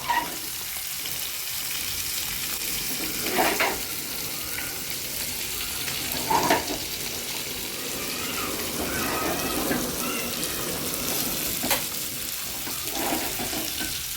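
Bombay duck (bombil) fish fry on a griddle with a continuous soft sizzle, broken by occasional louder crackles and spatters spaced several seconds apart.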